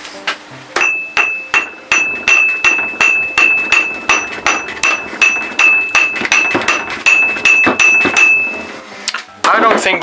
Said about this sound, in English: I'm going to try hitting it on both sides with a hammer gently